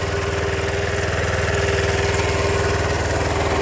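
Motorized chopper bicycle with a powerful small engine fitted, idling steadily with a loud, even, pulsing mechanical drone and buzzy vibration, no talk over it.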